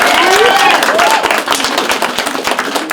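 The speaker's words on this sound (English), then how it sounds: "Clap it up. Clap it up." Festival crowd clapping for a featured artist, with close, sharp individual claps building into steady applause under a voice calling out from the stage.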